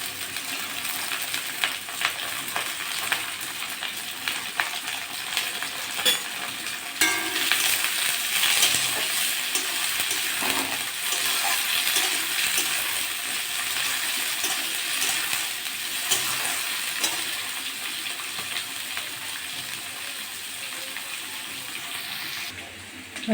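Egg fries in hot ghee with carrots for fried rice, a steady, close hiss of sizzling with light scraping and stirring throughout and a brief louder surge partway through.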